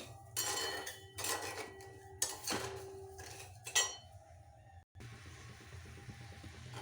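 Sugar syrup cooking in a pan is stirred with a metal spoon, giving repeated clinking scrapes against the pan in short bursts over a low steady simmer, with a brief cut near the end.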